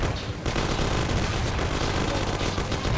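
Sniper rifle shots in the video game Mafia, part of a dense, loud, continuous barrage of crackling gunfire that fills the whole stretch with no pauses and no talking.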